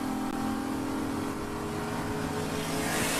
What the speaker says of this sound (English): it's a good sounding car. Interesting. It's the V8.